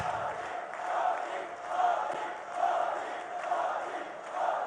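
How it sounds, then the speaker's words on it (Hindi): A large crowd at a public event cheers and applauds to welcome the Prime Minister, forming a loud, sustained roar that swells in waves. "एक बार फिर तालियां बजाइए, स्वागत कीजिए, अभिनंदन कीजिए"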